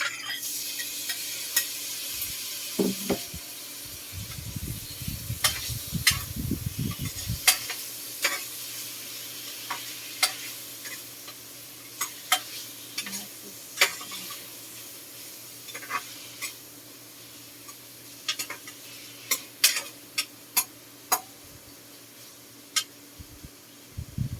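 Tomatoes frying in a pan with a steady sizzle, stirred with scattered scrapes and clinks of a utensil against the pan, close and clear with no talking.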